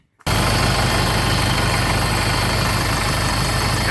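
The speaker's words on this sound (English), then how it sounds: "it's a brand new compressor. So we'll try it and see." A vehicle engine fitted with a brand new compressor starts abruptly and keeps running loud and steady, a constant close-up rumble with no talk over it.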